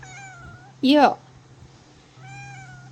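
A male cat meows in complaint at breakfast time in holiday lodgings in Cambodia, one loud drawn-out meow between quieter background tones, with a brief spoken word nearby.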